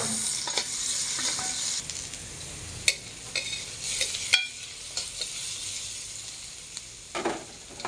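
Ginger and onion sizzle in hot oil in a pan for afritada, a steady crackling fry close up, broken by scraping and clacking of a spatula as the pieces are stirred.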